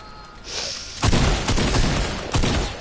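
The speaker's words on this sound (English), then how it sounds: "Getting shot from behind." Dense video game gunfire, a rolling barrage of loud shots and booms from behind the player, with several heavier bursts over a continuous roar.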